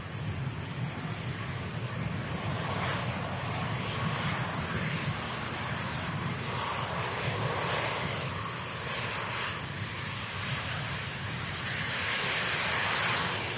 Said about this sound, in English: Let's have a nice look at this when it taxis past us. It's an A380 with sharklets.